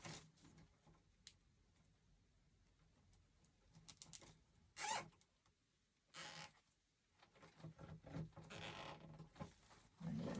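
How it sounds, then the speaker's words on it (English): A zip tie ratchets tight around a bow on a grapevine wreath in a few short, quick zipping bursts, close and fairly faint, with small rustles and handling noises between them. "So I'm just going to zip tie my bow."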